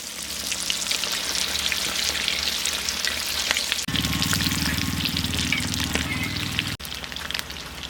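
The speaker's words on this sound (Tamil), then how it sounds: "எண்ணெய் நல்லா சூடாயிருச்சு இப்போ மசாலாவில் கலந்த சிக்கனை போட்டுக்கலாம்" Masala-coated chicken 65 pieces hit hot oil for village-style deep frying, a loud, continuous close sizzle and crackle that swells as more pieces drop in.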